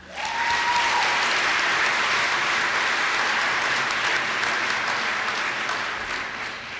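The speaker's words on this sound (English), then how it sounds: "Please give Macy a round of applause." Audience at a 2017 high school graduation convocation awards presentation breaks into sustained, even applause that rises quickly and holds steady for several seconds, filling the hall with dense clapping before tapering slightly at the end.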